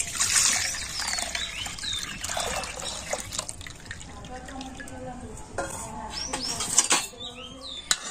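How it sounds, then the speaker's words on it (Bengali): Close up, a litre of milk pours into a kadai pan holding a little water, making a trickling, splashing stream that comes and goes in uneven gushes. "আর এবার আমি এই 1 লিটার দুধটা কড়ার মধ্যে দিয়ে দিচ্ছি।"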